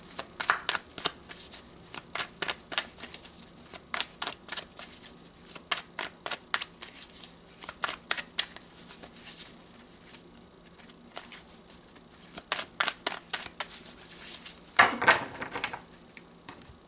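Tarot cards being shuffled by hand in repeated quick riffling bursts, close and fairly quiet, with short pauses between rounds and a louder flutter near the end.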